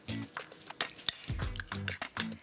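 Chopped dried apricot filling is stirred in a bowl, giving soft wet squishing and scraping strokes in short repeated bursts, close and fairly quiet, with a faint kitchen sizzle in the background.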